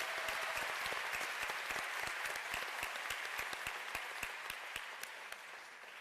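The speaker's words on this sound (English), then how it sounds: "Y'all, please give Dr. Palermo one more round of applause" Sustained applause from a graduation crowd at Bossier Parish Community College, honoring a speaker: dense steady clapping throughout, with sharp individual claps standing out, fading slightly toward the end.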